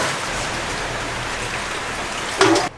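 Rain pours down steadily outdoors as an even, broad wash of noise, with one louder gusty burst near the end.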